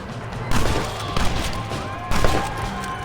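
Explosive rifle fire in the Red Dead Redemption video game, with three heavy, booming shots spaced about a second apart over a constant low rumble.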